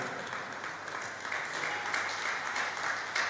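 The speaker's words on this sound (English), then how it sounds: "Ladies and gentlemen, I want us to give a round of applause to the National President of Pest Control of Nigeria," Steady audience applause at a pest control association seminar and AGM in Nigeria, a dense even wash of many hands clapping that holds for the whole stretch and swells a little toward the end.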